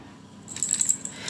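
A set of five brass lock keys for an Imperial/Kale lock cylinder jangles briefly in the hand, a short bright metallic clinking burst, close and alone.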